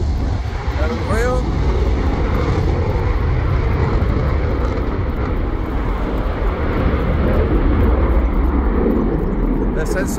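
A jet airplane roars loud and steady throughout an air show display at RIAT 2023 in the UK, a continuous broadband engine rumble with spectators shouting excitedly over it.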